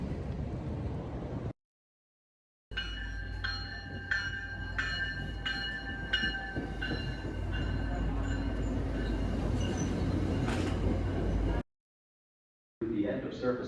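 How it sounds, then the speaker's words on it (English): A commuter train rolls along the rails at 5 a.m. toward the city, with a loud continuous rumble and repeated brief tonal squeals from wheels and track. "I'm getting ready to catch the train"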